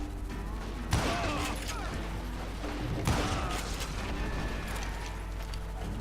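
Gunfire in the Western shooter game Call of Juarez Gunslinger: two loud shot bursts with rumbling tails over a steady background of game ambience and a voice.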